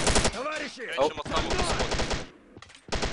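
An AGS-30 automatic grenade launcher firing in a war video game set in Chechnya, rapid repeated thumping bursts close by, mixed with a brief exclamation and battle noise, pausing briefly before firing resumes.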